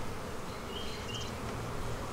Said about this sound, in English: Now I'm going to shake some of her nurse bees into that hive.